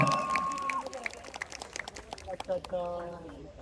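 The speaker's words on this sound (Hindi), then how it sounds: "तालियां बजाना जोरदार" An audience claps at a gathering honouring folk singers and artists, a quick patter of many separate hand claps at moderate distance, with people talking at the start and end.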